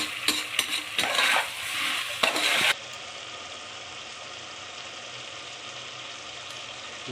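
Mutton pieces frying in a pan with salt for a mutton roast: loud, rough stirring and scraping for about three seconds, then a steady, softer sizzle continuing on its own.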